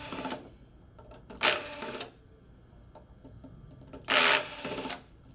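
A power screwdriver whirs in three short bursts as screws are backed out of parts of an ultrasonic mist humidifier, close and loud, with quiet clicks and handling noises between bursts and no talking.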